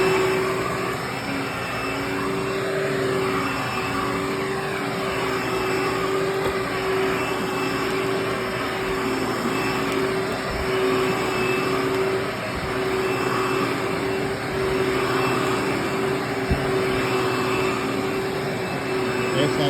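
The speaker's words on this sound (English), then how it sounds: "So I'm fixing to vacuum the floor in here with the Hoover WindTunnel Bagless." A Hoover WindTunnel Bagless Anniversary Twin Chamber vacuum cleaner runs steadily on a family room floor, a loud, constant motor whine with a strong tonal hum, close to the microphone and uninterrupted.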